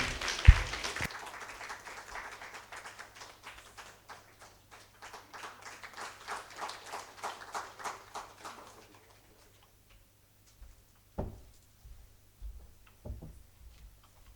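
An audience at a national women's day awards ceremony in India applauds, a thin scattered patter of clapping that fades out after several seconds, followed by near silence with a few faint knocks.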